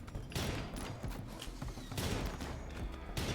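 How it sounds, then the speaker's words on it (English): Mortar and heavy artillery fire in a video game battle: dense, continuous barrages of booming blasts and crackling shots, loud and rolling with bursts swelling near the start, middle and end, with no voices over it. "They've got mortars! Holy crap, and heavy artillery."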